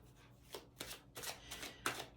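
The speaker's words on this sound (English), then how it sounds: "We're gonna do 3 of these shuffles." Tarot cards are shuffled in a quiet run of soft, riffling bursts, five or six brushing flurries separated by short pauses, close by with no speech.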